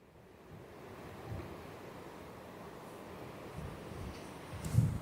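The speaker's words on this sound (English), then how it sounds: "it's just the wind" Strong wind at RAF Lossiemouth buffeting the microphone, a low, rumbling roar that swells in gusts and peaks in a loud blast near the end.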